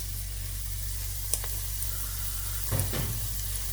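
Curry leaves fry in oil in a pan for Kerala fish curry, a soft, steady sizzle with a low hum and a couple of brief spits and crackles, quiet and without talk.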